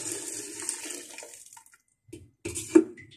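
Hot water is poured into a pot of paya (goat trotters), a brief rushing splash that fades out, followed by a few sharp clanks of the pot and utensils.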